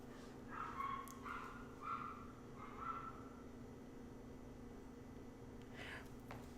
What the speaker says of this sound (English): Why is a dog barking?